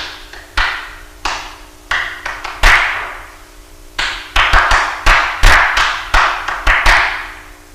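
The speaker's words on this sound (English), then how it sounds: "the very first thing to do is to sit down and clap out the code words" Sharp hand claps beat out a rhythmic pattern, close and crisp, in short groups with brief pauses between phrases.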